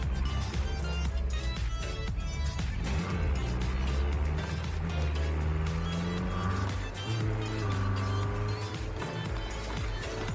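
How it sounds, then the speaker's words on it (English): Racing car engine in the open-world driving game Neverness To Everness, revving loudly and continuously with rising and falling pitch sweeps at gear changes, close and steady throughout. "I like the sound of the gear changes"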